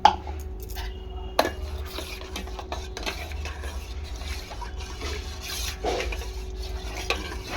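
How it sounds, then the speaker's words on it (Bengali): Mung dal being washed with water in a metal pot: swishing and sloshing of water and lentils with scattered clinks and knocks against the pot, a louder bang at the start and a few sharper hits along the way. "এই যে জল দিয়ে ডালটাকে সুন্দর করে আমি ধুয়ে নেব"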